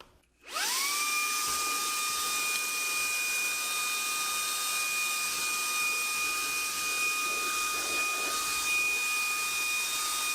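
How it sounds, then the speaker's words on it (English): A Shark Ion handheld vacuum whirs up to a steady high-pitched whine after a brief start-up, running continuously and loudly while sucking up debris spilled from a dustbin cup. "I'll use the handheld to vacuum up everything that I just spilled"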